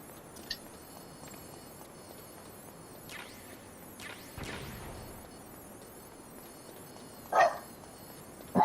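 A dog belonging to the speaker's mother-in-law barks in the distance, a few scattered yaps and a couple of louder closer barks near the end, over quiet room ambience.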